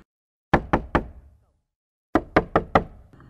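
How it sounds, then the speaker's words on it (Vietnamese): Knuckles rapping on a wooden door at night, two close, sharp bursts of three and then four knocks separated by a pause, loud and dry against silence, ending with a faint hum. "Âm thanh gõ cửa lần nữa lại truyền đến"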